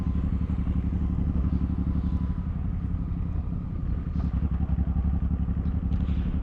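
A Suzuki M109R motorcycle engine idles and rumbles nearby through its exhaust pipes with a low, throbbing pulse, steady throughout with some faint rattling.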